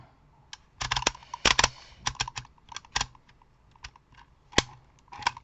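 A Dymo label maker from a discount shop embossing letters, giving a run of sharp, close clicks and snaps at an irregular rhythm, some louder than others, with no voice.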